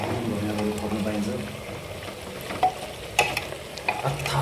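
Pork fry curry is stirred in a sizzling pan, with a steady frying hiss, scraping strokes and a few sharper clatters of the spoon against the pan near the end.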